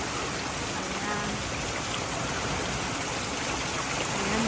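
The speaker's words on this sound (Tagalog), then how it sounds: "ang lakas po ng ulan" Heavy rain pours down in a dense, constant hiss that stays loud and even throughout, with no voices.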